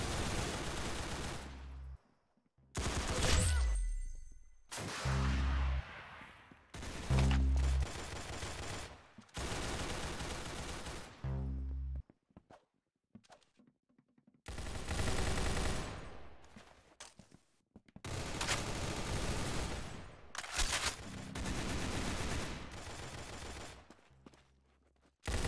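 Video game gunfire in Roblox Arsenal: repeated bursts of rapid automatic shots and single cracks, loud and close, broken by short silences.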